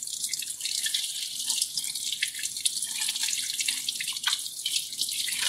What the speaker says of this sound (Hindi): पानी खोल के धो दें।